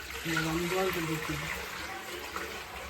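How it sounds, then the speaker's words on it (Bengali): Water poured into a cooking pot in a home kitchen, a steady splashing trickle under a voice that talks over the start, fairly quiet and close. "প্রথমে এটাতে জল দেওয়া হলো"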